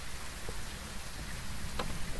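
Rain falls in the Phasmophobia video game, a soft, continuous hiss at low level with one or two faint drips or knocks, no talking.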